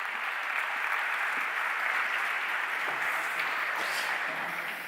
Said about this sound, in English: Please, let's welcome with an applause also our fantastic panelists.